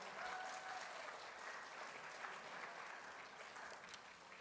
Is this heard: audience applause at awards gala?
yes